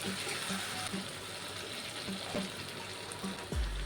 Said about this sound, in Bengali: ওপর থেকে দিয়ে দেবো নারকেলের দুধ